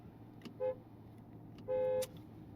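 Two horn honks from a 2025 Rolls-Royce Black Badge Cullinan Series II, a short toot followed by a longer blast, fairly faint against a low background rumble.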